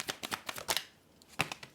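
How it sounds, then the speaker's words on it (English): A large tarot deck, split into smaller piles, is shuffled in quick soft riffling bursts, about a dozen crisp card snaps close by and quiet, with no talking. "this deck is really big and I can't shuffle it all at once"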